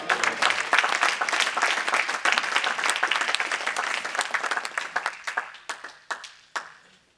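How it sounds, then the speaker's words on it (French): A church congregation applauds, the dense clapping filling the room before it thins into scattered claps and fades out. "Acclamez le Seigneur."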